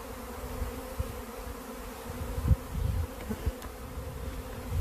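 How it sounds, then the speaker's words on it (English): A low, steady insect drone of many bees buzzing together, fairly close, with a few louder swells. "it's just a small cluster of bees."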